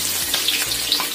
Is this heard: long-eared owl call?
no